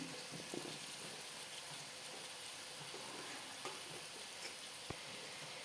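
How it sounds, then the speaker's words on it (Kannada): Chopped carrot, capsicum and tomato fry in a pan, giving a faint, even hiss of sizzling with a few soft stirring clicks and no voices. "ಇದೆಲ್ಲ ಹಾಕಿಕೊಂಡು ಈಗ ನಾನು ಅರ್ಧ ಬೇಯುವಷ್ಟು ಫ್ರೈ ಮಾಡಿಕೊಳ್ತೇನೆ."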